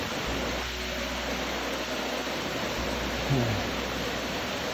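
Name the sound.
waterfall on a hiking trail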